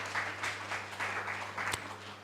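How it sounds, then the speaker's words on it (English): Audience applause for a speaker at a healthcare conference in Nigeria, a moderate steady patter of many hands filling the room for a couple of seconds, with a brief louder clap near the end. "Please put your hands together for him as well. Let's clap for him, please."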